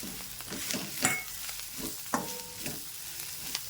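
Onion-garlic masala and curry leaves tipped into eggplant already frying in a pan, a steady low sizzle with a few sharp scrapes and clatters of spice hitting the oil, close and moderately quiet with no talking.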